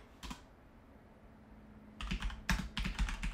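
Search being typed on a computer keyboard: one brief key tap, a quiet pause with a faint hum, then a quick close burst of clicking keystrokes in uneven clusters, no voices.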